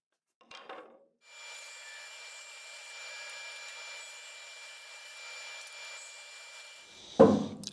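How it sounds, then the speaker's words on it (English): Bandsaw cutting through beech wood, a steady whirring, rasping drone that runs evenly for about six seconds after a brief knock, then ends with a sharp clunk. "All pieces have been cut on the bandsaw."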